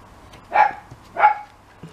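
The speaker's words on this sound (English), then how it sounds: "It's Timmy barking" A dog barks twice in a quiet indoor room, two separate mid-pitched woofs about two-thirds of a second apart, fairly close and clear.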